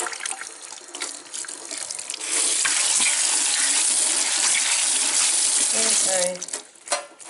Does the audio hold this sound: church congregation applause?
no